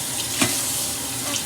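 Water runs from a tap into a sink during dishwashing, a steady close hiss with a brief louder splash near the middle.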